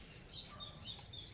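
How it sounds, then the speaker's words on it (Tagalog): A tekling bird calls in the wild, thin high chirps repeating faintly over a soft steady outdoor background, with no voices. "Yun, narinig nyo, tekling yan."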